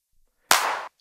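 A single crisp drum-machine clap sample fired by a drum fill generator, one short bright burst alone in silence.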